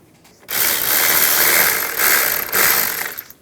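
A ratchet wrench tightening a nut on the AC accumulator of a 1999-2006 Chevrolet Silverado 1500, a steady close run of fast metallic clicking that starts after a short pause and holds for about three seconds with small breaks.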